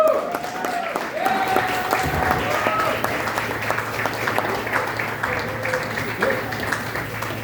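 Audience at a comedy show applauding and cheering loudly with sustained clapping and scattered whoops, while a host's amplified voice talks over the crowd.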